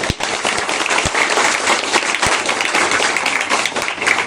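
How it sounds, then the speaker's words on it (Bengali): An audience at the inauguration of a computer education tech hub breaks into steady, dense applause that fills the whole stretch at an even, loud level, with a few sharper claps standing out near the start. "সবাইকে বলবো যে ওনাদের জন্য একটা হাততালি।"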